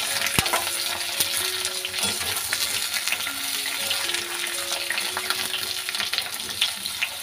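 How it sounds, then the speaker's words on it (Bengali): Sliced ridge gourd fries lightly with potatoes in a pan for a poppy-seed dish. A steady close sizzle runs throughout, broken by scraping stirs of a spatula, with no talk. "তো ঝিঙেটাও একটু ভাজা ভাজা হয়ে যাক হালকা।"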